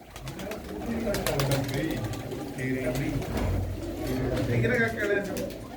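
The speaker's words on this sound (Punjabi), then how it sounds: "ਦੇਖੋ ਸੀਰੇ ਹਰੀਗੜ ਦੇ ਕਬੂਤਰ" Pigeons coo steadily in a loft built with separate nesting boxes, giving soft, layered rolling calls close by. Someone speaks over the cooing the whole time.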